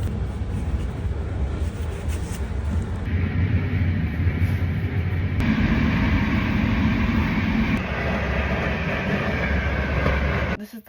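A passenger train rumbles along steadily at the last mainland Italian stop before being loaded onto a ferry, with a continuous rolling roar and a few abrupt shifts in tone, heard from inside a sleeper compartment.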